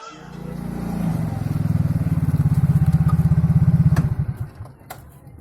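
A Pino motorbike rides up, its engine loud and close, buzzing steadily before sputtering and cutting off near the end.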